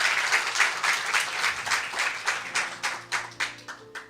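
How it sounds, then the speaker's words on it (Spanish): In a church congregation, a crowd claps in a dense burst that thins out into slower, more separate claps toward the end, moderately loud and without talk. "Un aplauso a Dios"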